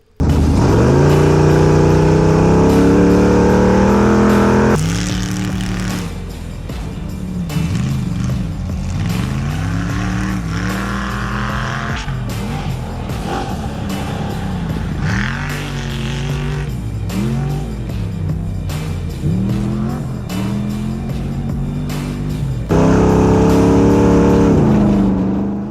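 An Ultra4 off-road race car engine revs hard and accelerates in bursts, loud and close, rising and falling in pitch with the throttle and opening and closing on bigger roaring passages.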